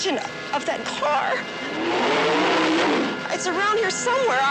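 A car engine revs and roars in a video game, with the loud motor noise rising and falling under a steady stream of excited talk.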